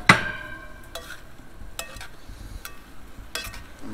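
Brussels sprouts tossed in butter inside a Dutch oven, with several sharp scraping, clattering bursts spaced about a second apart over a faint sizzle.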